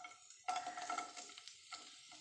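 Onion dropped into hot coconut oil, a sudden burst of sizzling that fades gradually, with a light scrape of a utensil against the pan, fairly faint and without speech.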